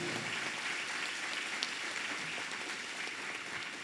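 A church congregation applauds during a service, giving steady, even clapping that sounds somewhat distant and low in level and carries on without a break.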